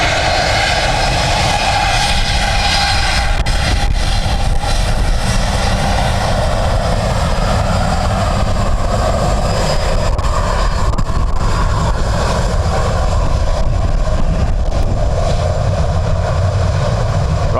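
An ATR turboprop from Manchester lands at Dublin Airport in a strong crosswind near its limits, its engines and propellers giving a loud, steady drone mixed with gusty wind rumble.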